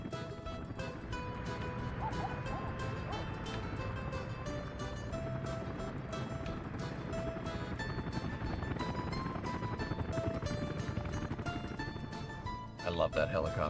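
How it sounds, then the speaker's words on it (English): In the city-building game Workers & Resources, a helicopter's rapid rotor chop pulses steadily under background music, at moderate loudness. "I love that helicopter noise."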